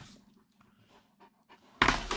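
A big dog pants close by in soft, quick breaths, then a sudden loud burst of rustling and movement takes over near the end.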